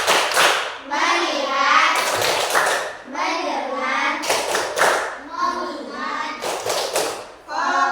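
A classroom of children chant the 'tepuk fokus' clap routine in unison, rhythmic group hand claps punctuating loud chanted words, close and energetic throughout.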